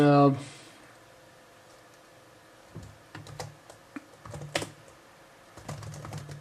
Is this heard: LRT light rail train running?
no